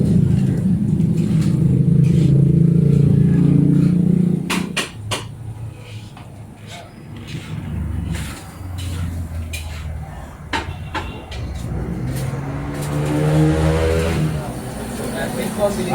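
An engine running during a drain declogging operation in Tondo, a loud steady rumble that drops back a little partway through, with clanks and scraping, and people talking over it.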